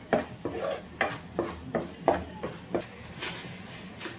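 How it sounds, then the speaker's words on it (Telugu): Turmeric being stirred into a fish curry in a pot, heard as a run of soft rhythmic spoon scrapes and taps, about two per second, close and fairly quiet; no talking. "పసుపు వేసి కలుపుతున్నారు."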